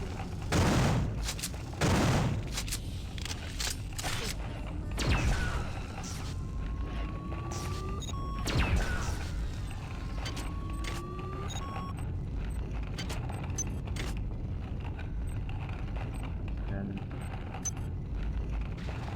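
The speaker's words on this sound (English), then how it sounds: "Frag grenades." Frag grenades explode in System Shock 2: a string of heavy booming blasts, several clustered early then more scattered, over a game soundscape with tonal beeps and sweeps.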